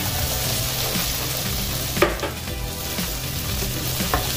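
Garlic, onion and quartered tomatoes fry in a pan with a close, continuous sizzle, and a couple of faint utensil scrapes cut through the steady hiss.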